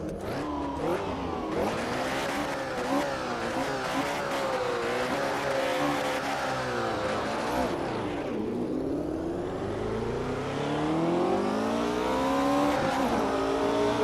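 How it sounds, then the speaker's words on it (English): A frightening race car on a track, its engine roaring loud and close throughout as it accelerates and revs through the gears, with a brief dip and a fresh climb in pitch near the end while lapping at high speed. "Listen to this thing. Oh my God. This is one frightening car."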